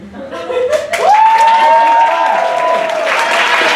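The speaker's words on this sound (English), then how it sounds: "Can you clap, please?" A comedy showcase audience claps on request at a stand-up set, the applause swelling after a second and holding steady, with a cheering voice rising above it.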